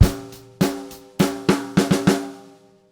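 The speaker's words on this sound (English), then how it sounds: "this time it's all on the snare drum" A drum break played entirely on the snare drum, a quick burst of about seven sharp strokes with a short ringing decay, close and loud with no talking.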